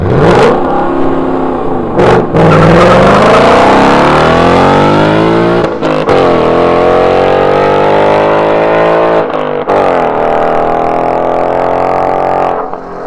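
Exhaust and engine of a 2018 Ford Mustang GT Performance Pack revving loudly and continuously up close, pitch climbing and falling through repeated rises with brief lifts between throttle blips.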